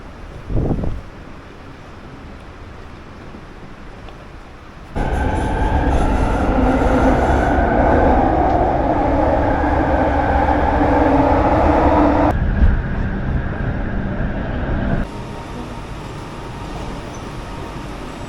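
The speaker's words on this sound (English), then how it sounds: "we're taking the train to the airport today" Inside a train to the airport in Kuala Lumpur, a quiet cabin hum gives way to a loud rushing roll with squealing wheels, then drops back to a softer hum.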